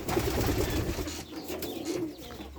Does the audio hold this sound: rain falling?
no